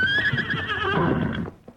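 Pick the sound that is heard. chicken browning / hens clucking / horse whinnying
horse whinnying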